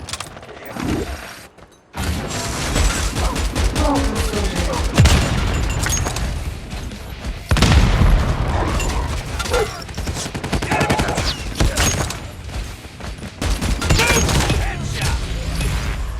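Rifle gunfire from a 3-line rifle in a multiplayer video game hardpoint match, sounding as loud, repeated shots and booming blasts over a dense, continuous battle mix of mechanical noise and effects.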